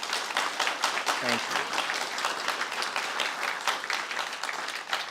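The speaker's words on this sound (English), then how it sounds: "I ask that you give our donors a round of applause." An audience at a guide dog graduation ceremony applauds donors with dense, sustained clapping throughout, and a brief spoken word sits under the applause.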